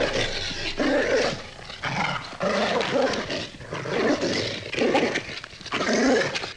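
A dog in a backyard barks and growls in repeated aggressive bursts at night, loud and close, with snarling between the barks.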